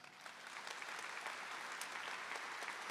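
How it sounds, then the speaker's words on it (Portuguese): A church congregation at Mass breaks into steady applause, a dense, moderately distant clapping that swells and holds for a few seconds. "Aplauda isso."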